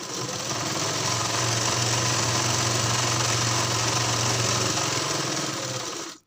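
Sewing machine stitching blouse fabric, a steady continuous motor whir with rapid needle chatter running for about six seconds before stopping abruptly, close and loud with no talking.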